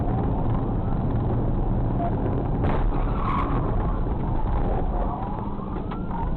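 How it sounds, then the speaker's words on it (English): A Dodge Charger spins out after a police PIT maneuver on a highway, tires skidding and scrubbing under a rumbling engine, with a siren faintly wailing through the muffled, band-limited recording. "executed a precision pit that sent the Dodge spinning like a pinball"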